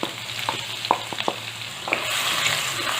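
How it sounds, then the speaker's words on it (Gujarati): Finely chopped onion sizzles in hot oil with whole spices and dried red chillies, a dense crackling fry broken by a few sharp clicks of a stirring spoon against the pan. "ખડા મસાલાને હલાવી તેની અંદર આપણે ઝીણી સમારેલી ડુંગળી ઉમેરીશું"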